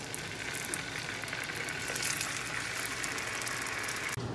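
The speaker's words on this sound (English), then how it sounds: "I've heated up some oil in my pan, and now we will cook the steaks." Steaks fry in hot oil in a pan, a continuous bright sizzle and crackle that holds at steady volume close by, with no talk, ending in a brief clunk.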